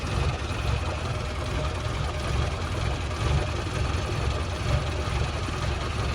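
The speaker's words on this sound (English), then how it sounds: "We'll just let her idle for a minute and we'll see." A Morris Minor 1000 engine idles steadily, just after a rocker cover replacement, with a continuous low rumble and a slight judder throughout, close and fairly loud, with no talking.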